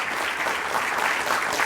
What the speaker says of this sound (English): I think we need to give a round of applause to the council and to the mayor